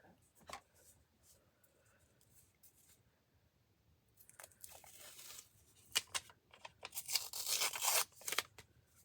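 Tape being pulled and torn from a roll while crafting a bagel box ephemera holder, quiet rustles followed by several sharp ripping bursts toward the end, close and fairly soft, with someone talking.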